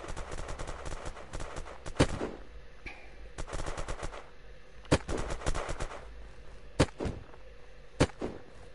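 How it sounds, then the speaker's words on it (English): Bursts of automatic gunfire in the survival game Unturned, with sharp loud shots scattered through a steady rattle of distant fire and rumbling background noise. "someone's shooting at us"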